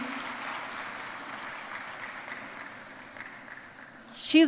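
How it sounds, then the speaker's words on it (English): Moderate crowd applause at a university first-year orientation ceremony continues steadily at a distance, softening slightly, before a sharp louder noise cuts in at the very end. "That deserves a bigger round of applause."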